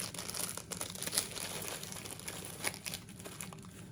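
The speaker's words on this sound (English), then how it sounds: "So let me open it and see. I'm just going to cut the bottom of it," A bag of crisped bean snacks is cut open and crinkled, giving close, continuous rustling with a few sharper crackles along the way and no talk.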